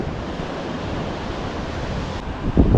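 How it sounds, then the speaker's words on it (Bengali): Sea waves break on the sandy beach at Mandarmani with a continuous, close, roaring wash of surf. A heavier crash of water rises at the very end. "কি ঢেউ"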